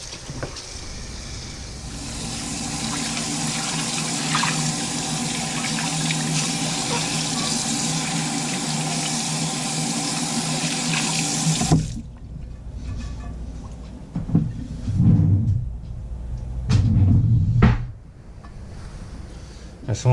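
Tap water runs steadily into a sink being cleaned for about twelve seconds, then shuts off. Afterward come a few short splashes and clattering handling noises nearby, with no talking.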